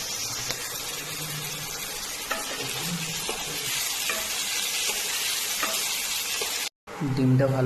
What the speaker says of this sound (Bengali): ডিমটা ভালো করে ভুজিয়া করে ভেজে নেবো